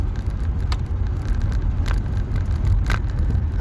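A car driving along a road, a steady, continuous engine and tyre rumble heard from inside, with no talk.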